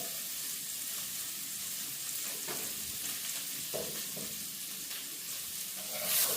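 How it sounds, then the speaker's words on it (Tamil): Onion sautéing in a pan gives a steady close sizzle with occasional soft stirring scrapes, loud and continuous with no voices. "வெங்காயம் வதங்கட்டும்"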